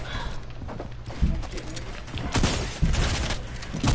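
Gunfire in an online shooter game, with bursts of rapid shots and a few louder hits under ongoing game noise, as voices talk over the action.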